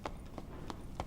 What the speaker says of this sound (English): I heard one single footstep.